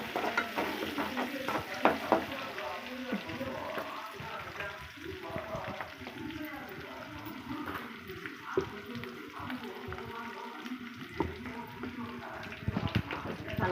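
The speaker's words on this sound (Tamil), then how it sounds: "நல்லா கொஞ்சம் பொன்னிறமாக வர வரைக்கும் வதக்கணும். வெங்காயம் வேகணும்." Onions with green chillies, curry leaves and mint sautéing in a pan for egg curry, a steady frying sizzle with scraping stir strokes throughout, under intermittent talk.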